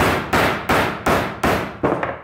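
Five loud, close hammer blows land about every 0.4 seconds, driving a power steering rack bushing back down on a Daytona Coupe kit car, each sharp impact ringing briefly before the next.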